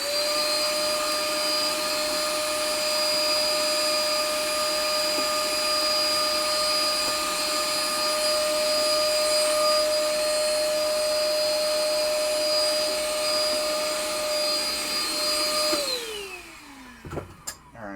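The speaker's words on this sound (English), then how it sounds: "we're gonna clean that, vacuum that off right away" Vacuum cleaner running close and loud at a steady high whine while cleaning a 1974 Gottlieb pinball relay board, then winding down near the end with a few knocks.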